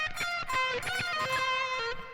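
An electric guitar on its bridge pickup plays a blues lick: a few clean, sustained and bent notes in a quick phrase, heard close and on their own.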